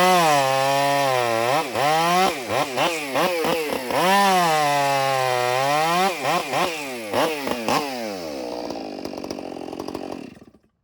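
A STIHL 500i or 400c chainsaw cuts through small wood, its engine repeatedly revving up and dropping back in close, loud bursts before winding down to a rough idle and falling quiet.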